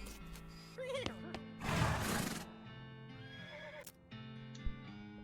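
A horse in West of Loathing lets out a loud, rising neigh, with a burst of hoof clatter and snorts between game music tones.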